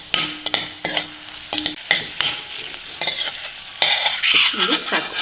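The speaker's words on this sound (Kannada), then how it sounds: "ಪಫ್ ಆಗೋವರೆಗೂ ಹುರ್ಕೋಬೇಕು." Black raisins roast in a pan until they puff up, with loud, close spatula stirs and scrapes that come in bursts over a light sizzle of frying fat.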